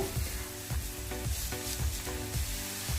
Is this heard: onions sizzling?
yes